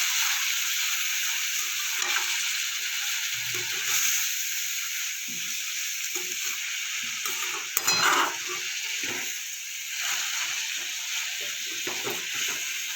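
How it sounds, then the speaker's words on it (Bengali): Cauliflower stalks frying in a pan for a Bengali dish, a steady soft sizzle with scattered scraping stirs and a brief clink of the spoon against the pan, close and moderately loud. "আমি ভালো করে একটু নাড়াচাড়া করে নিয়ে একটু ঢাকা দিয়ে দেবো"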